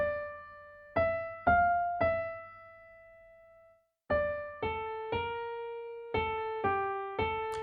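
Main theme music from a video game: a slow, sparse melody of single plucked or struck tones, each ringing out and fading, with a brief pause midway before the phrase resumes.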